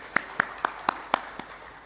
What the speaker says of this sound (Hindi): आपके लिए मेरी तरफ से तालियां